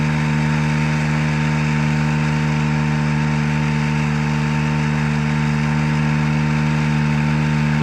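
A forestry bucket truck's hydraulic boom runs off its auxiliary Kubota motor, giving a loud, steady engine drone with a strong low hum throughout and no change in pitch.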